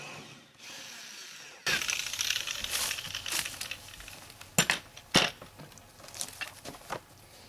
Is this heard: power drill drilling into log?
yes